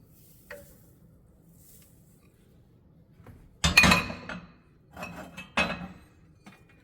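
A spoon stirring spices into stuffed pepper filling in a pot. There are a few separate metallic clinks and scrapes against the pot, with quiet pauses between them.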